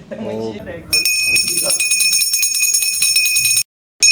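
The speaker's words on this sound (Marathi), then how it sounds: "पहिली घंटा झालेली आहे नाटकाची" After a moment of talk, a loud electric theatre bell, the first of three before a play, rings continuously for a few seconds under a speaking voice, cuts out briefly, then starts again.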